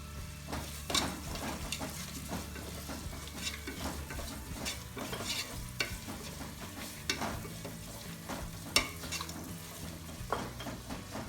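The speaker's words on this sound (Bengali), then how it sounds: "মিডিয়াম হিটে পেঁয়াজটাকে ভাজি করে নিব সঙ্গে চার পিস তেজপাতা দারুচিনি পাঁচ থেকে ছয় পিস এলাচি দিয়ে দিব" Sliced onion frying on medium heat with four bay leaves, cinnamon and five or six cardamom pods for Bangladeshi polao, stirred in a pan with sizzling and repeated utensil scrapes and clinks against the metal.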